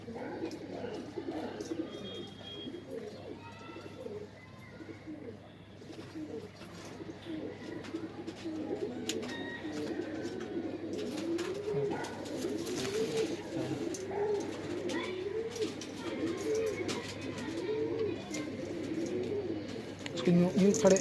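Madrasi pigeons at a loft in Ajmer, Rajasthan coo in repeated low rolling phrases throughout, close by, with people talking intermittently over them.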